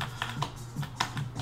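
Computer keyboard arrow keys are pressed in a quick, irregular run of light clicks, close and fairly quiet, with no talking.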